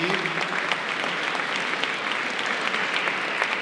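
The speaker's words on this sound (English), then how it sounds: "give them a round of applause" An audience at a high school Class of 2024 graduation event applauds parents and guardians. Dense, loud clapping holds steady throughout, a few cheers mixed in.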